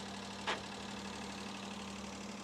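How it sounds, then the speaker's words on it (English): A mini truck engine idles steadily with the hydraulic dump PTO engaged, a constant low rumble with a humming drone and a single brief click near the start. "So I've just engaged it, and it's going to idle up."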